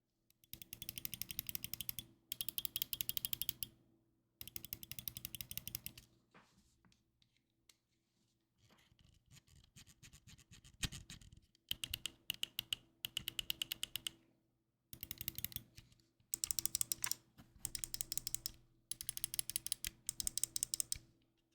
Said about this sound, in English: I'll give a click test.